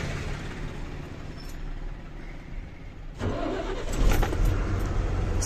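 Car engine cranking and catching, then settling into a mid-pitched idle with a rise in revs near the end, close and steady, with no talk.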